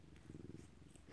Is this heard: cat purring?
yes